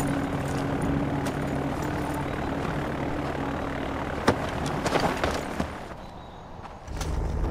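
In Far Cry 4, a propeller airplane drones with a steady, loud engine hum while taking off, with scattered clicks and thuds over it before it briefly fades and returns.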